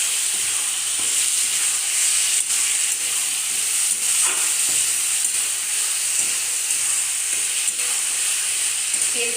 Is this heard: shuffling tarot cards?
no